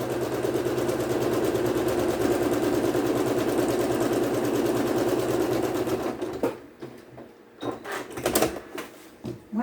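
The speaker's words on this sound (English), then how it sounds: "we're going to stitch down that line" A sewing machine stitches a quilt square in a fast, steady mechanical whir that runs several seconds before stopping, followed by a few scattered handling knocks and clicks nearby.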